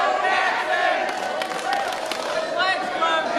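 Wrestling crowd at a CCW event cheering steadily for Jacksyn, a dense, loud wash of voices with shouts and whistles rising throughout, mixed with commentary.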